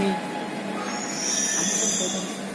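An MIDC underground metro train rumbles along with high squealing wheels and a steady mechanical drone, loud and close.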